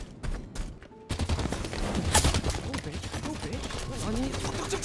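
Rapid gunfire bursts in a Halo 5 custom match on a haunted estate map, dense clattering volleys running almost without pause after a brief quiet start, with faint talk underneath.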